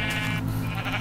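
A Minecraft sheep bleats loudly and up close, one wavering, nasal bleat lasting about a second with no speech over it.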